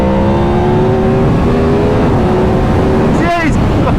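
A 2023 Yamaha MT-10 motorcycle engine revs and accelerates hard, a loud rising drone that climbs steadily in pitch before the throttle snaps shut near the end, heard from on board the bike.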